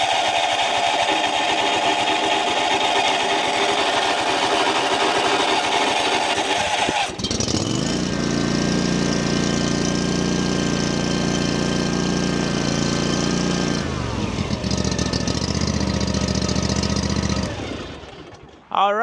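A Land Pride ZST zero-turn mower engine cranks and catches, then settles into a loud, rough idle with a steady drone before cutting off near the end; a voice is heard speaking early on.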